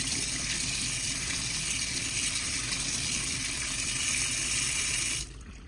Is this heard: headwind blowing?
no